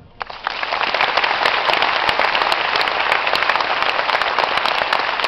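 Loud, close applause bursts out after a brief quiet start at a diploma ceremony for graduates of a choreographic arts school in Zhytomyr, a thick crowd of hands clapping continuously without pause.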